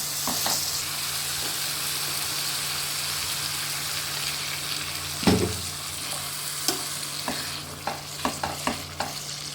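Water poured into sizzling fried masala in a frying pan for an egg curry, a sudden hiss and burst of bubbling midway over steady frying sizzle, followed by a few sharp clinks of a spoon against the pan.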